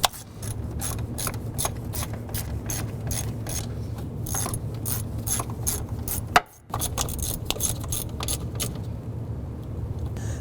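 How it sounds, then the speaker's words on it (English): A 12mm socket on a ratchet snugs down throttle body bolts on a 2006-2012 Honda Civic. It makes rapid, repeated metallic clicking over a low hum, with one brief pause partway through before the ratcheting resumes. "Using our 12mm socket and ratchet,"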